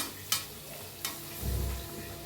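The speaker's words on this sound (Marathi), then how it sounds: "तळून तळून घेऊया बघा काय फुलायला लागले ते" Bread pakoda frying in hot oil gives a soft, steady sizzle, with two sharp clicks of a utensil and a brief stirring burst, close and without talk.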